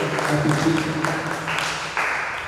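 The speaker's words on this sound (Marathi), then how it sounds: "आपण सर्वांनी फादरच्या टाळ्या वाजवून त्यांचं स्वागत करूया आणि धन्यवाद देऊया" A church congregation on a feast day applauds to welcome the Father, with steady, moderately loud clapping from many hands running throughout with little break.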